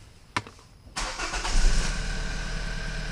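A car engine with a cylinder 3 misfire cranks after a brief click, catches and settles into a loud, close, rough idle that continues steadily to the end.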